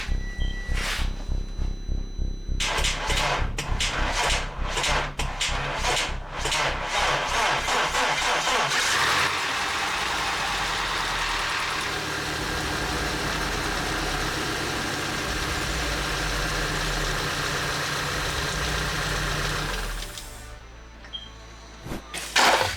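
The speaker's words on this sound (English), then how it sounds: "So here I'm gonna use the other car's battery to start this car." An Audi A4, jump-started from another car's battery, cranks in rapid repeated bursts for a few seconds, then catches and settles into a loud, rough, steady idle that holds until it cuts near the end.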